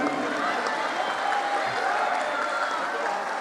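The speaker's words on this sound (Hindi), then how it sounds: "इनके लिए एक बार तालियां।" An audience at a spiritual gathering in Dubai bursts into sustained applause, a dense steady wash of clapping hands filling the hall, with a voice faintly mixed in.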